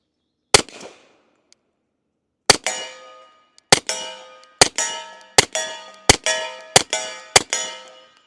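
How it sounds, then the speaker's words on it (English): Nine shots from a stainless Sig 1911 X .45 pistol fitted with an Osprey 45 suppressor hit steel targets. Each gives a sharp crack and a ringing metallic clang; one isolated shot leads, then eight follow in a quick, fairly even string. "let's go ahead and shoot some rounds through the Osprey 45."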